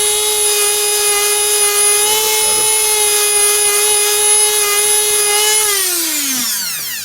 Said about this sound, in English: I'm going to see if I can burnish this other part